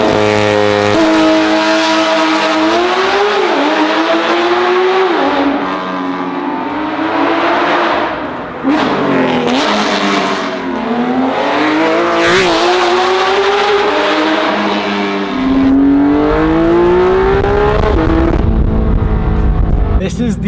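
Loud straight-piped Porsche 911 GT3 RS with catalytic converters removed, revving hard to about 9,000 RPM in repeated rising and falling sweeps, with a deep burst near the end.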